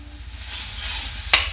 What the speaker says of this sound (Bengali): আমি তেলের মধ্যে একটু কালো জিরে দিয়েছি, দিয়ে মটরশুঁটি পেস্টটা দিয়ে দিচ্ছি তেলের মধ্যে